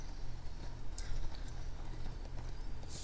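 Hooves of a standard horse in the video game ArcheAge clip-clop in a steady, even rhythm, close and fairly loud, with no talking.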